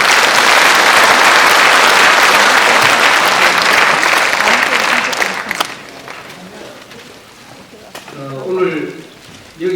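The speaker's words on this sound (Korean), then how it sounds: "여러분 큰 박수 부탁드리겠습니다." A crowd at an outdoor political rally in Gangneung bursts into loud, dense applause that holds for about five seconds, then fades out, followed by a lull and a speaking voice near the end.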